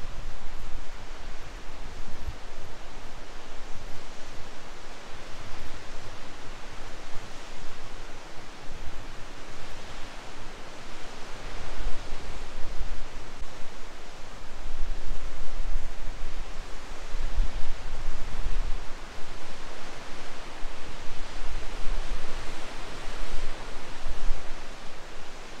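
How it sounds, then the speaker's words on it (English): A waterfall along a highway in Washington State, a steady full roar of rushing water, constant and broad without pauses, heard alone. "There's that waterfall."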